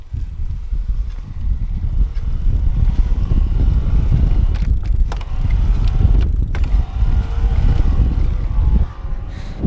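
Riding a Trek Lift+ Lowstep electric bike: a steady, loud rush of wind buffeting the microphone, with faint mechanical and road noise underneath throughout.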